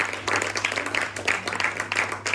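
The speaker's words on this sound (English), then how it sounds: "Give them a round of applause, please." Audience applause at a comedy hypnotist stage show on a seaside pier, a dense steady patter of many hands clapping at close range throughout, with no talk over it.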